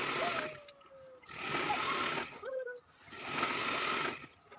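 A sewing machine stitches a large nine-by-nine quilt (godhadi) in three close, steady whirring runs separated by brief pauses.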